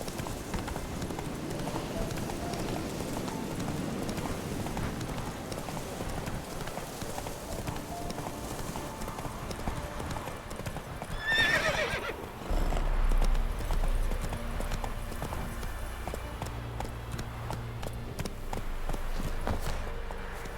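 The horse Roach from The Witcher 3 video game, hooves clip-clopping in a steady rhythmic gait, with a brief whinny partway through, then a low rumble and music-like tones underneath toward the end.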